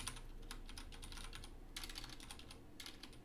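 Someone types on a computer keyboard while entering Arduino serial-communication code, a steady patter of faint, close key clicks with short pauses between bursts.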